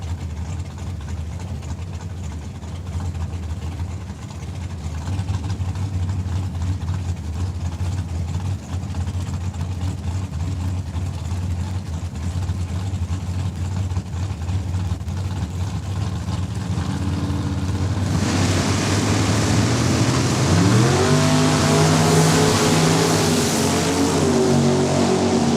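A 1968 Firebird and a 1964 Belvedere race at Saskatchewan International Raceway drag strip. The engine drone is steady and rumbling at first, then swells sharply louder with a rising roar toward the end.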